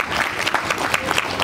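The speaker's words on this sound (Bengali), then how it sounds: "জোরে হাততালি, জোরে হাততালি" A crowd claps at an award presentation during a Hindu religious conference and annual Gita Jayanti festival. The burst of applause is dense and fairly loud, with overlapping hand claps lasting just over a second.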